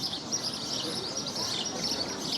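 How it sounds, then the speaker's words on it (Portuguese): Small birds chirp steadily in a large park, a continuous bright twittering that sits at moderate distance with faint background ambience. "Olha os passarinhos, como tem passarinho nesse lugar."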